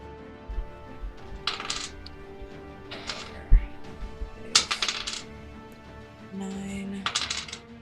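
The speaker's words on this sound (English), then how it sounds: "So let me roll a bunch of dice." A bunch of tabletop dice for a Dungeons & Dragons game are shaken and rolled, giving several bursts of light plastic clatter and rattling on a table, fairly close, with faint voices in the background.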